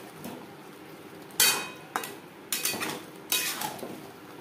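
Potatoes with mutton fat are stirred in a cooking pot for alur dum, a spoon clanking and scraping against the metal in a few sharp knocks and scrapes, moderately near and quiet, with no voices.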